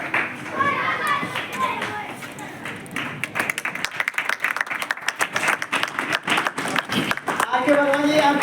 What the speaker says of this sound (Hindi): एक बार बच्चों दोबारा तालियां बजाएं